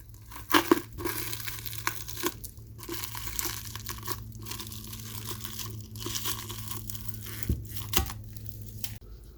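Masking tape and paper peeled away from a freshly spray-painted surface, giving scattered crinkling, tearing and crumpling noises with a few sharper rips over a low steady background hum.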